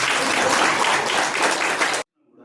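An indoor audience gathered for a senior citizens' housewarming function claps in a dense, steady wash of applause that stops abruptly, leaving near silence.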